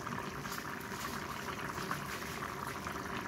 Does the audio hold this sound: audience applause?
no